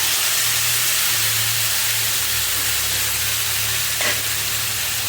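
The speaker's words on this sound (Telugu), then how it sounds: "ఇప్పుడు ఒక 1 కిలో టమాటాలు వేస్తున్నాను." A kilo of tomatoes sizzling in a hot pan, a loud, constant hiss and crackle of frying that holds steady throughout, close up and alone.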